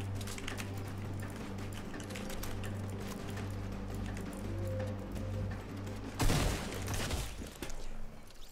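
Rapid gunfire in Fortnite, a dense fast stream of shots over a steady game hum, with a louder, harsher burst near the end.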